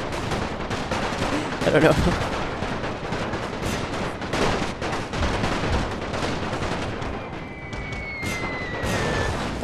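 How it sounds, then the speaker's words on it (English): Battle gunfire in a World War I video game, dense continuous rattling shots and distant booms in a busy wash of noise, with someone briefly speaking over it. "We're wasting a lot of ammo. Just shooting in the trees right now."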